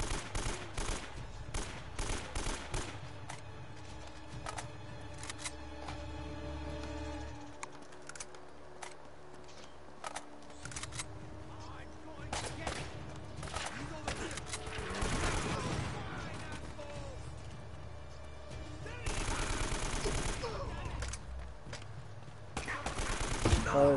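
Rapid bursts of gunfire from the video game Uncharted, with sustained fusillades and sharp shots clustering loudly through much of the stretch, mixed with game sounds and occasional talk.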